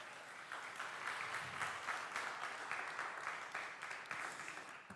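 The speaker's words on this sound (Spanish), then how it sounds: "Dele ese fuerte aplauso al Señor." A church congregation applauds steadily during a Spanish-language sermon on the Holy Spirit, a dense, even wash of clapping hands that holds for the full five seconds at moderate distance.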